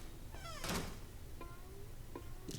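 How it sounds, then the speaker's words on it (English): A cat in the video game Luigi's Mansion 3 lets out a few short, quiet meows, spaced apart over a soft background, with a brief thunk-like burst near the start. "You have to keep following that damn cat around."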